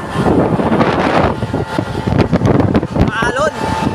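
Wind roars and buffets aboard a ship underway on a rough sea, steady and loud broadband noise close to the microphone, with a voice briefly speaking over it.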